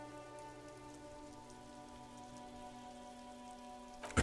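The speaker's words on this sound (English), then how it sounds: "Rain falls down on the world." Steady rain falls in a video game world, a dense continuous patter that holds evenly throughout, ending in a brief louder splash.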